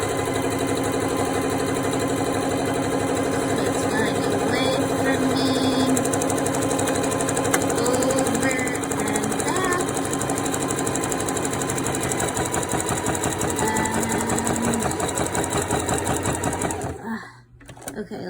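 A domestic sewing machine stitches a buttonhole on a skirt, a fast steady mechanical whirring and clatter running close and continuous for most of the time before abruptly stopping near the end.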